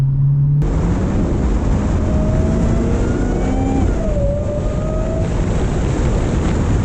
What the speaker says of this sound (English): I can't get over that supercharger noise